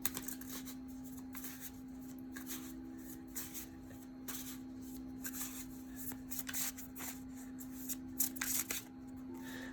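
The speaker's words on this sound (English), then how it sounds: "Let's go ahead and pull one more card here." Tarot cards being drawn from a deck: quiet, sporadic papery slides and flicks scattered over the clip beneath a steady low electrical hum, with no talking.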